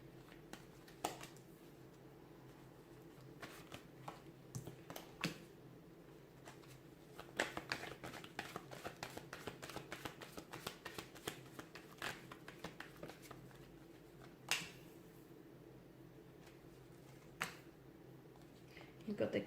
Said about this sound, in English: let's give the cards a shuffle